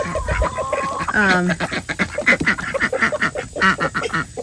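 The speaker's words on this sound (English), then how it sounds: "Those are our 2 male ducks." Two male ducks quacking close by in repeated raspy bursts, with some chicken clucking mixed in.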